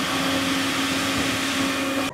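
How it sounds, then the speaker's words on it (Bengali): Hand dryer in a Japanese bullet train washroom gives a loud, steady blowing whir with a constant hum for about two seconds, then cuts off abruptly. "Hand dryer."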